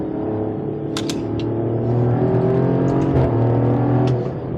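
A Maserati Grecale Trofeo SUV engine pulls hard under acceleration from inside the cabin, a steady loud rising drone with harmonic layers climbing in pitch and a brief shift near the middle, no talk over it.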